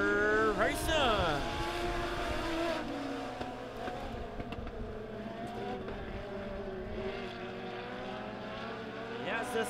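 Legend race cars on a dirt oval at Springfield Raceway, engines revving and climbing in pitch as the pack launches on the green flag, a roaring field at moderate distance, with an announcer talking throughout.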